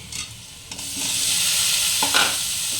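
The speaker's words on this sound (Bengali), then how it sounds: "এখানে আমি টমেটোটা দিয়ে দিচ্ছি," Tomato is added to a hot pan for snail masala curry, with a loud sizzle swelling up and a few sharp utensil scrapes and clatters as it is stirred.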